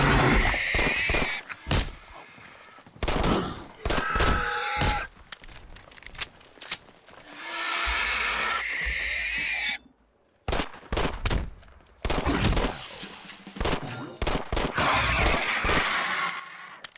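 Gunfire from a gun in Fallout 4, loud sharp shots fired in rapid clusters and bursts with short silent gaps between volleys, plus occasional crashing impacts.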